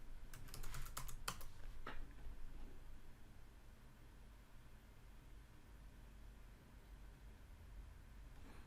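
A short burst of rapid keyboard keystrokes at the start, then faint steady hiss of a quiet room for the rest.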